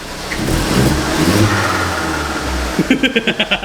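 A Vauxhall Corsa VXR engine roars loudly under heavy throttle, then breaks into a rapid series of sharp, rhythmic popping bursts near the end.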